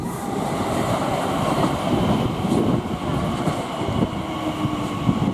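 Class 387 electric train running as an empty stock movement to Reading depot at West Ealing on the Great Western Main Line, a close, loud rumbling pass with rhythmic wheel clatter, no talk.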